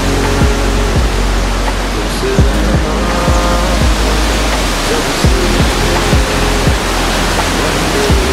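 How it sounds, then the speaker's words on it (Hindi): A river at Sundarijal flows far below, heard as a constant loud broadband rush of water, overlaid by a repeating series of short low thumps that sound like footsteps or wind buffeting nearby. "खोला त्यति तल छ, तब त्यही पनि खोलाको छाल तपाईँ माथिबाट सुन्न सक्नुहुन्छ।"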